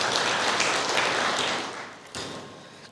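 A church congregation claps together during a sermon, a dense, steady wash of applause that fades slightly before a fresh burst near the end.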